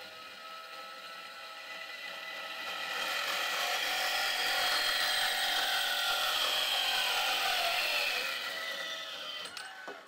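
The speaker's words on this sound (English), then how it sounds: "it was that easy, Chris, to use this bandsaw" A bandsaw running and cutting in a commerce park shop, a steady broadband whine that swells in the middle and eases near the end, heard alone without talk.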